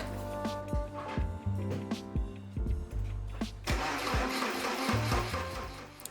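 A Porsche 944 engine cranks with a few sharp starter clicks and sputters, then catches and settles into a busy, close idle.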